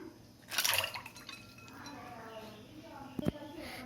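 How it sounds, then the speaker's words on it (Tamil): Ice cubes dropped into a glass of lemon juice give a brief bright clinking splash up close, followed by faint dripping and a single small clink later. "இப்போ ஐஸ் க்யூப்ஸ் உள்ளே போட்டிருக்கலாம்."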